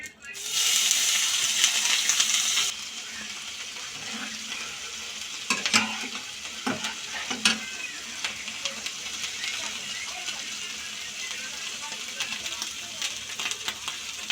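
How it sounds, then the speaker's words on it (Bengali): Onions and shrimp sizzle and crackle in hot oil, loud at first then settling, with scattered clinks of stirring. "ওই তেলের মধ্যে একটু ফুল চিংড়িটা ভেজে নেবো"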